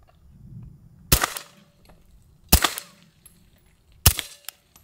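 Suppressed gun firing subsonic rounds: three sharp, evenly spaced muffled cracks about a second and a half apart, each with a short mechanical clack of the action cycling, close and otherwise quiet.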